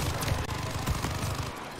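Dense, continuous gunfire in Call of Duty: Vanguard, with rapid bursts and booming shots overlapping into a loud, sustained barrage that runs for the whole moment without pause.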